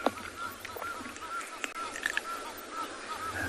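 Several Egyptian geese honk across a busy outdoor safari soundscape at sunrise, mid-distance, with a steady hum of insects and other birds in the background.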